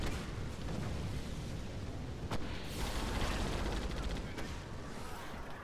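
Sci-fi gunfire in the Moon Breakers space combat game: bursts of rapid shots and sharp impacts over a dense, rumbling background of engine and battle noise, with several quick volleys in succession.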